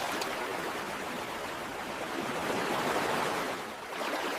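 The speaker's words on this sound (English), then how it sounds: "I am splashing some water." Steady broad wash of ocean waves at a beach, continuous and fairly loud with no distinct individual splashes standing out.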